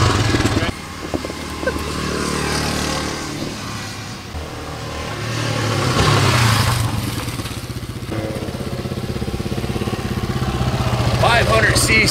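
A 1980 Honda XR500 big-bore four-stroke motorcycle rumbles past, its thumping engine note swelling as it nears and then receding, loud and continuous with wind noise.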